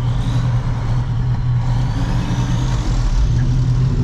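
A 1971 Chevrolet C10 pickup drives along, its engine a steady low drone heard from inside the cab with road rumble and no talking.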